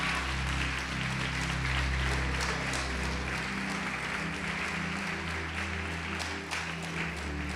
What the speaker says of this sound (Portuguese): Quem crê pode aplaudir o Senhor e glorificá-lo.